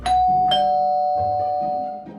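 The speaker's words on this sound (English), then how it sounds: "Suddenly, the doorbell rang." A doorbell chimes indoors, a loud, close ding-dong in two tones with a ringing decay, standing alone without voices.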